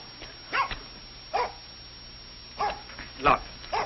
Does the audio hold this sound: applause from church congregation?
no